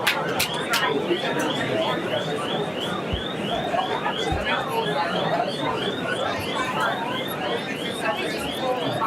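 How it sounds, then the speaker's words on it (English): An alarm in a planning and zoning commission meeting room, a rapid repeating chirping tone pulsing steadily throughout, heard over background murmur and room noise. "The alarm goes."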